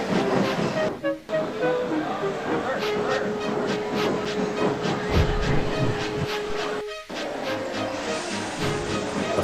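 A steam locomotive chuffs and hisses steadily, with rhythmic puffs and a broad rush of steam, loud and close.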